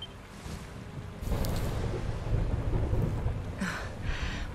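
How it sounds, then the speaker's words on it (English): Rolling thunder rumbles in a rainy storm scene in the video game Dragon Quest XI, a low continuous roar swelling louder after the first second with bright crackling bursts, heard alone without talk. "Would you look at it thundering away out there?"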